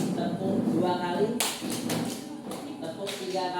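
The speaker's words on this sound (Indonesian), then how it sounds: "Tepuk 2 kali." A standing group of school staff does a clapping icebreaker, with bursts of roughly unison handclaps landing in the latter half after a voice speaks, a little ragged and roomy.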